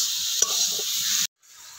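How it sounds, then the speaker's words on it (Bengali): Spiced potato-style filling for fried puli pitha being stirred in a hot pan, a steady sizzling hiss with a few scraping spoon strokes, close, cutting off abruptly near the end. "এবার সবকিছু ভালো করে নাড়াচাড়া করে মিশিয়ে নিচ্ছি।"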